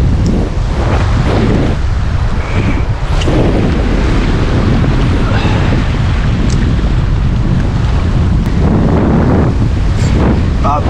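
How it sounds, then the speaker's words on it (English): Strong wind buffets the microphone on a rocky ocean shore while fishing for Australian salmon, a steady loud rumble with surf washing underneath throughout. "I'm also sorry if the wind's up and you can't hear me too well"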